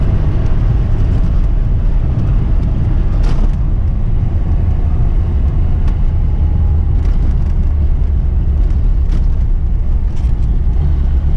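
A Zhiguli car accelerates hard in third gear, a loud, close, steady engine drone with rushing road and wind noise that holds throughout, with no talk.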